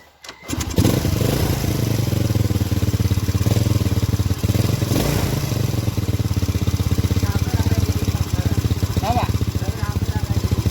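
A Honda Supra motorcycle, warmed up, with a fault of fouling black spark plugs and stalling, starts after a brief crank and settles into a loud, steady idle with an even beat, close up, throughout.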